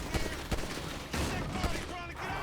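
Bursts of gunfire crackle in sharp, rapid shots in GTA 5 over a noisy background, with voices talking underneath.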